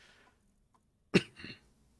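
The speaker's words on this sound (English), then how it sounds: "Ooh, excuse me, coughs." A single sharp, close cough bursts out of near silence, trailed by a short rough exhale, from someone pausing mid-session while playing Space Engineers.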